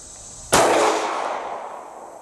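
A single sharp gunshot from a Cobray M11 being test fired cracks out loud and close, then trails into a decaying echo with no follow-up shots.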